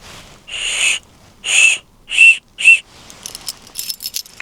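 Four shrill, high whistle blasts, the first long and the rest shorter, evenly spaced and close, followed by faint rustling and clicking.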